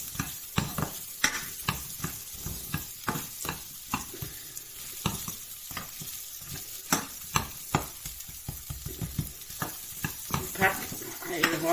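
Shrimp stir-frying with curry powder in a pan, a steady loud sizzle broken by frequent sharp scrapes and clacks of a spatula tossing the food, continuous throughout at close range.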